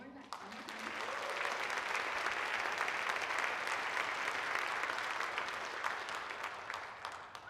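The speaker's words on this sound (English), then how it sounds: "So let's give it a round of applause once more." Sustained audience applause at an MLK Day event, a dense steady wash of many hands clapping at moderate loudness for the whole stretch, with no break.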